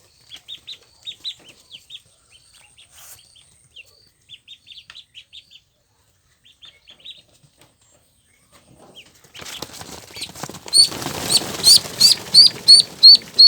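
Three-day-old Peking ducklings, first a few scattered high peeps, then a burst of scrambling and rapid repeated loud calls as they scurry away inside a brooding enclosure.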